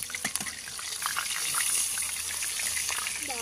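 Fish frying in hot oil in a home kitchen, a steady hissing sizzle with scattered crackles and pops, continuous and fairly close.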